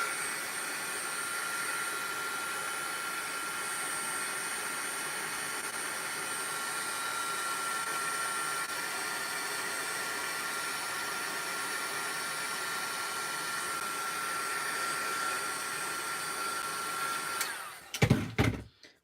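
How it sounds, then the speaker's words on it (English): A Wagner heat gun blows hot air to dry a craft project, a steady close whooshing roar that holds evenly for about seventeen seconds before it cuts off with a few brief clunks. "we're gonna dry it with the Wagner heat gun."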